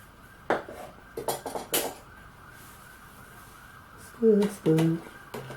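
Mushroom soup stirred in a pot on the stove, giving a few scattered clinks and scrapes of a utensil against the pot, with a brief cluster of sharper knocks near the end; a voice can be heard in the background.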